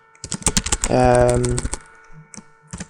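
A computer keyboard clatters with quick, uneven keystrokes, close and crisp, as someone talks between and over the typing.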